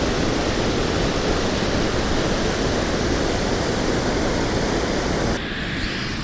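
Kalmandavi waterfall at Jawhar, an 80-foot fall of clear white water, roars in a dense, unbroken rush that stays loud and close for the whole stretch, easing slightly near the end.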